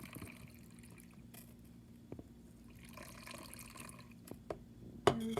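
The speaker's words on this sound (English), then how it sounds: "all I'm going to do is pour some water into this little section here" Water trickles quietly into a plant pot's reservoir for soilless house plants, a faint, soft pouring and dripping sound with a few small clinks, close and without talk.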